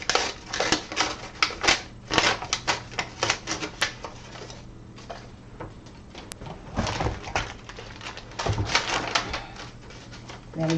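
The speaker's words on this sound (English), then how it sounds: "so I'm tearing some of the paper off" Paper dyed with tea is torn by hand to make a ragged edge, giving a run of close, crisp ripping and crackling bursts with no talking.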